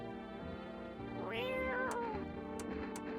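Cartoonish cat meows in a video game, two or three rising-and-falling calls over a steady musical backdrop, close and clear with no talking.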